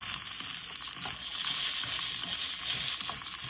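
Green chilies, carrot, green peas and cabbage fry in a hot pan for chicken fried rice, giving a continuous bright sizzle with soft stirring, with no voices.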